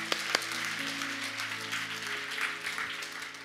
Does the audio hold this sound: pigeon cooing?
no